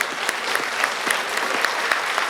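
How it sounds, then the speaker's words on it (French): Audience applause at a fashion show, a dense, steady clapping from a crowd that holds evenly for a couple of seconds with no voices over it. "Une belle main d'applaudissements"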